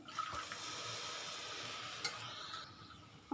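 Water streams into a pan of oats khichdi with vegetables, a soft continuous rushing and splashing with a few faint clinks.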